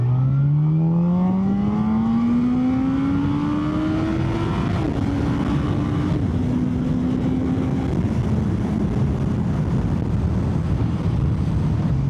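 A motorcycle on fresh new tyres pulls away and accelerates, the engine note rising steadily through the gears, loud and close with constant wind rush over the microphone throughout.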